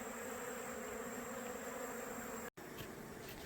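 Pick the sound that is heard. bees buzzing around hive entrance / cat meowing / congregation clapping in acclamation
bees buzzing around hive entrance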